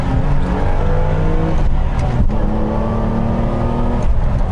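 A BMW E24 M635CSi's six-cylinder, 24-valve engine revs sharply in quick bursts during heel-toe downshifts, the pitch jumping up and dropping between gear changes, loud and close with no talking.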